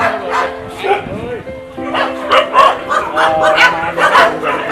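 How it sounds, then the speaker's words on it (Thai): Dogs at a shelter at feeding time bark and yip repeatedly in an excited, overlapping chorus, close and loud, with a whining whimper mixed in and someone speaking over the noise. "ได้เวลากินข้าวของน้องหมาพอดี เดี๋ยวเอาอาหารไปให้สุน ัขกันค่ะ"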